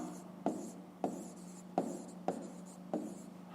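Handwriting on paper while working a math exercise, five short distinct pen strokes or taps in an uneven rhythm over a faint steady hum, close and quiet, no speech.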